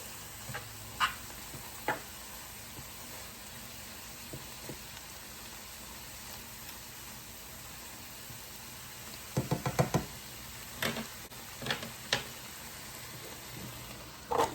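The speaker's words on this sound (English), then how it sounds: "Give this a stir" A spoon knocks against a pot while homemade chili is stirred, with sparse soft taps, a brief cluster of scraping clatter, and a faint sizzle underneath.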